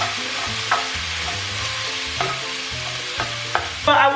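Beyond Meat crumbles frying in a pan for deluxe beef Hamburger Helper, a continuous close sizzle with occasional stirring scrapes and clinks of a utensil against the pan.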